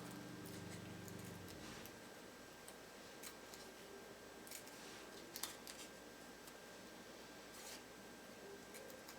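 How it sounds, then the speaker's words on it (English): Scissors cutting felt for a quiet book, a hair and beard piece, with quiet snips and rustling, close and faint, no talking. "So I'm just going to punch my scissor in and cut out this darkened place"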